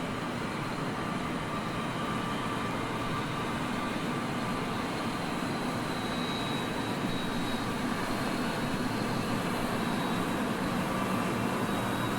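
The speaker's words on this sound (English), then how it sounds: "So we'll inject the fuel and watch engine number 2 now come." Boeing 777-200 engine number 2 spooling up during start in the X-Plane 11 flight simulator, a steady broadband jet whine and rumble with a faint high tone, continuous and even throughout.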